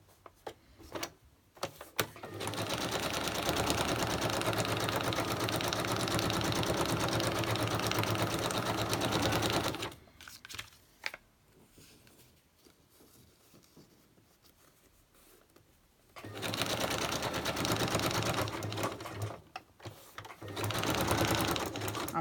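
Sewing machine stitching fabric pieces down onto a decorated folder, two long runs of rapid close whirring separated by a quieter pause with faint handling noise.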